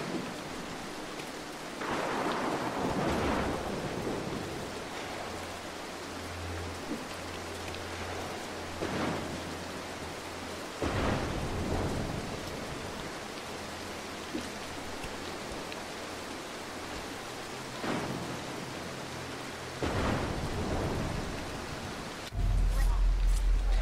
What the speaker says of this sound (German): Erst kommt der Donner und dann kommt der Blitz.